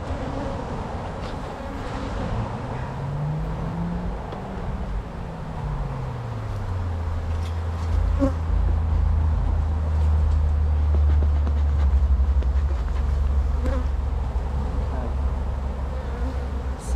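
Angry honeybees swarm around an opened abandoned hive, a dense close buzzing that rises and falls in pitch as insects fly near, loud and continuous with no talking.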